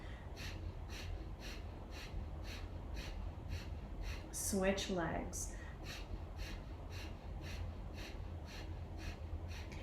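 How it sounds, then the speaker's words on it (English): Rapid rhythmic breath of fire, a steady panting through the nose during a Kundalini yoga leg-lift exercise, fast even pulses running throughout with a brief louder gasp midway and a short spoken instruction. "begin breath of fire, panting like a dog through the nose"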